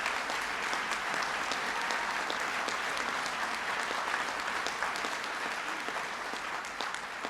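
Audience at a presidential signing event applauding in a dense, even roar of many hands, loud and continuous throughout.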